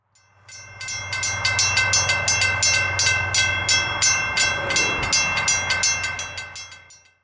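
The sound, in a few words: train passing a railroad crossing with mechanical bells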